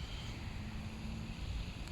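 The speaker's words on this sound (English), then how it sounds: "It's very windy today" Steady wind buffets an outdoor microphone on a blustery day, a constant low rumbling rush with no pauses and no voices.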